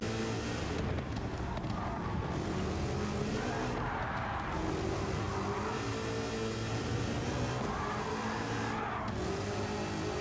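An engine-swapped Nissan 300ZX driven in Gran Turismo 7, producing a continuous loud engine drone with rising and falling pitch as it accelerates and shifts through corners, with no talk.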